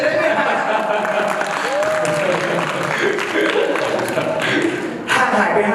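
Steady applause fills a press conference for a Bangkok fan meeting, a dense wash of clapping from a sizeable room that holds level throughout, with a brief dip and a faint voice-like whoop partway through.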